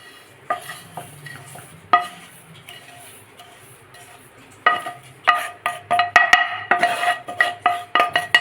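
Peanut ladoo mixture with dry-roasted sesame being stirred in a pan at home, with a spoon scraping and knocking against the metal. Sparse strokes at first, then a quicker run of close, clattering strokes.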